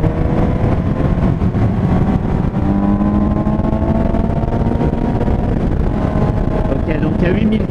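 A Suzuki GSX-S 750 motorcycle engine drones at high rpm while riding, a loud continuous tone with rising harmonics under heavy wind rush.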